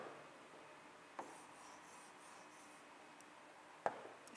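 A pencil colouring a cup picture in blue gives a faint, steady scratchy rubbing, quiet and close, with two small clicks partway through and no talking.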